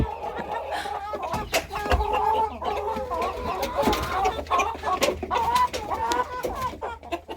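Several hens cluck and murmur nearby in an overlapping, busy chorus, with occasional louder squawks and rustling throughout.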